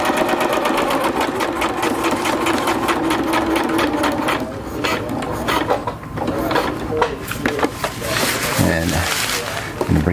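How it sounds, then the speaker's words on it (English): Sewing machine stitching the edge hem of an ultralight tarp over layered backing patches, a steady loud rapid needle chatter running continuously throughout, with a few heavier thumping stitches near the end. "I'm going to just sew over those"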